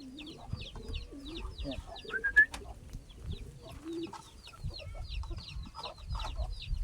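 Chickens clucking nearby in bursts of short, scratchy calls, heard alongside a voice and low background noise.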